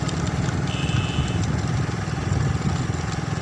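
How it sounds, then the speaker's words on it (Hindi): A tractor engine drones steadily on a road leading toward the Chenab river, a continuous low, chugging rumble heard close and fairly loud with no talk over it. "देख के ये ट्रैक्टर भी आ रहा है"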